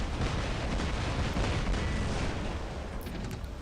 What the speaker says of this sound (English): And especially if I shoot from cover like this.